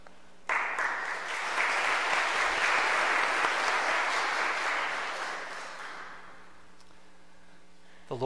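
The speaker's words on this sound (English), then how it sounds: "let's suffice it with an applause and our love and our gratitude to our" Applause from a congregation at a Saturday vigil Mass thanking the deacons, starting abruptly, swelling into a full wash of clapping, then fading away over the last few seconds toward near silence.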